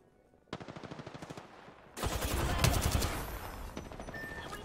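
Bursts of automatic gunfire aimed at the player in a tactical shooter game: a steady rapid volley at first, then a louder, denser exchange of shots with heavy impacts, close and sustained.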